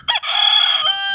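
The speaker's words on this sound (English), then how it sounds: "sharp little rooster" A rooster crow sound effect serves as a game-show buzzer on a footy show, one bright, loud, close crow about a second long, standing alone.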